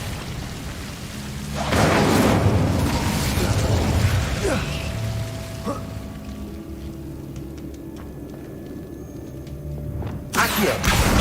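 Incendio fire spell cast in the video game Hogwarts Legacy, a loud whooshing burst of flame that fades into a crackling, rumbling tail before another sharp burst near the end.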